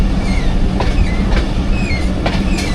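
Jaffar Express passenger train rolling through a loop line on a Pakistani rail route, led by an HBU20 locomotive, with a loud, steady rumble and periodic wheel clicks across the rail joints.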